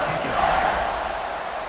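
A stadium crowd in College Football 26 roars at a kickoff in a Cincinnati at Baylor game, a dense, loud, steady wash of cheering voices without pause.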